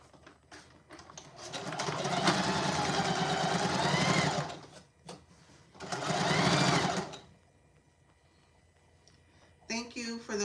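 A sewing machine stitches the side seam of a tote bag in two loud, rapid bursts of buzzing clatter separated by a pause, followed by a few brief clicks of adjustment near the end.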